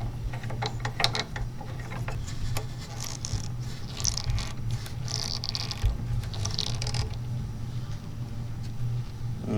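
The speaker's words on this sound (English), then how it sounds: "Installing the cartridge in the housing, and I'm gonna screw this back on." The safety cartridge housing of a table saw being screwed back on, heard as close ratcheting and clicking mechanical sounds with a few brief scraping rubs over a steady low hum, with no speech.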